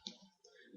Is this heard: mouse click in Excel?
yes